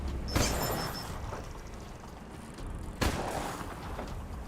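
Gunfire from the video game Wasteland 3, shooting at a creature's tail, comes as two sharp booming shots about three seconds apart, with quieter combat rumble between them.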